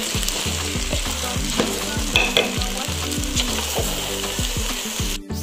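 Rice pilau being stirred in a pot for fish pilau with coconut milk, a loud close sizzle under a steady rhythm of repeated scraping strokes, ending abruptly, with no speech.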